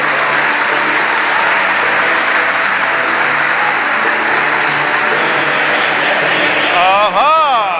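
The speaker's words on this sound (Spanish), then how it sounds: "Un aplauso, muy bien." Steady, loud applause fills a church during a Catholic Mass for the Feast of the Assumption, a dense continuous wash of many hands clapping, with a brief sung or spoken tone rising near the end.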